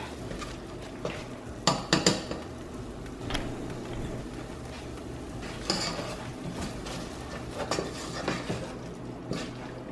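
Potato and vegetable curry seasoned with garam masala cooks in a pan, with steady low frying and scattered clinks and scrapes of a utensil against the pan, several louder knocks standing out through the ten seconds.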